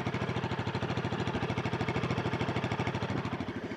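Close, steady idle of a Royal Enfield Himalayan 450 motorcycle engine, its rapid, regular pulsing firing beat running evenly and alone for a few seconds.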